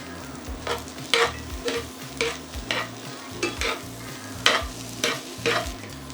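Pork skin is stir-fried back into Jamaican egg fried rice: about ten rhythmic scraping strokes of a spatula over a low, constant sizzle, close and unaccompanied by speech.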